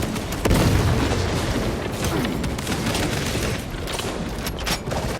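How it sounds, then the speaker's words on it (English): A frag grenade detonates in the video game Warhammer 40,000: Space Marine 2, a loud booming blast with rumbling debris and crackling bursts of gunfire continuing over several seconds. "Deploying frag grenade!"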